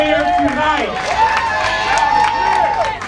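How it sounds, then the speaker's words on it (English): A crowd at a mayoral victory speech claps and cheers, with rising voices and whoops over continuous applause that holds at a loud, steady level. "Everybody give yourselves a round of applause"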